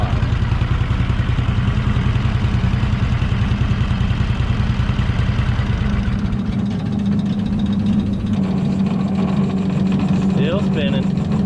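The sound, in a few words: Vermeer woodchipper flywheel spinning down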